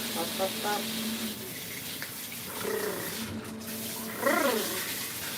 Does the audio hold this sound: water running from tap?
yes